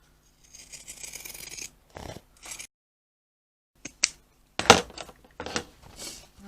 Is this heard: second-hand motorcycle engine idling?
no